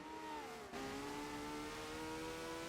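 A 1960s Formula One race car engine in a racing video game, in a steady high-pitched whine that climbs as it accelerates hard out of a corner, with a brief dip in the note before the sound settles into a sustained drone.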